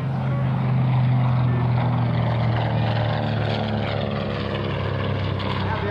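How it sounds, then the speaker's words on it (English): A TBM torpedo bomber, a big carrier-based World War II warbird, flies at an airshow with a loud, steady propeller-engine drone that holds throughout, with a voice heard over it. "This was a torpedo bomber."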